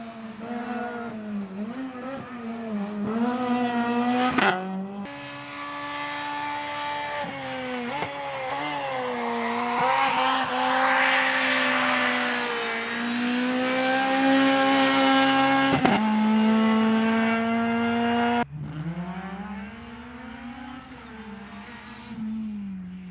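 A rally car slides full lock sideways around a corner, its engine revving hard with rising and falling pitch, loud and close, cutting out abruptly at moments between bursts of throttle.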